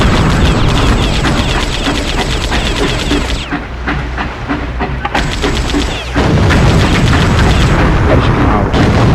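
Howitzer cannon fire in the PS2 game Swashbucklers booms repeatedly amid dense rumbling battle noise, loud and continuous with a brief lull in the middle.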